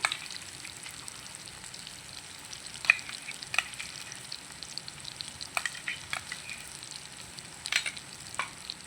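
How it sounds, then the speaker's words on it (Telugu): Ground paste frying in a pan, a soft steady sizzle with occasional light scraping taps from stirring, rather quiet and close, with no speech. "ఇందాక ఈ పేస్ట్ పట్టుకున్నాం కదా అది వేస్తున్నాను"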